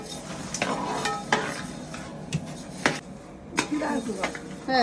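Urad dal and dried red chillies, roughly three kilos of dal and 200 grams of chillies, stirred in a large pan, giving irregular scraping and clinking spatula strokes with soft sizzling underneath.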